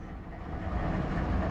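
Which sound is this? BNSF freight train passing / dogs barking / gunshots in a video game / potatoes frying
BNSF freight train passing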